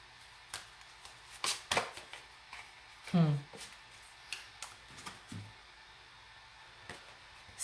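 Tarot cards are handled and shuffled, producing scattered crisp riffles, slaps and flicks at close range, fairly quiet with short pauses between bursts.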